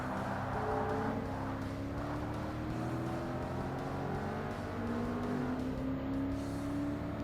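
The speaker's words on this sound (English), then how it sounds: "I can hear the exhaust note of that Elise" A Lotus Elise or Exige racing in Forza Motorsport, its engine droning steadily at high revs with shifting pitch as it accelerates and lifts, loud and continuous, with other cars faintly around it during an endurance race.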